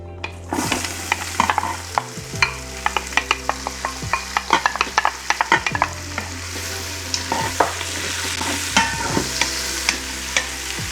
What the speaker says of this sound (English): We're going to start to saute our onion, celery, and our garlic.